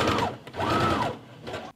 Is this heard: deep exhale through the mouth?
no